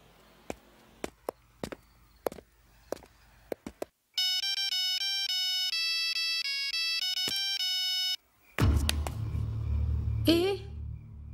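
A mobile phone ringtone plays a loud, steady synthesized melody for about four seconds. Sharp taps and knocks come before it, and a burst of noise and a short voice follow once the ringing stops.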